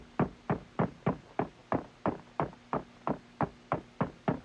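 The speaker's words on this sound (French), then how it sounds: "Et vous plantez un clou à l'endroit où vous pensez que ça se produit." A hammer drives a nail through roof shingles with about fifteen evenly spaced, solid knocks at a steady rhythm, close and fairly loud, each blow ringing briefly before the next.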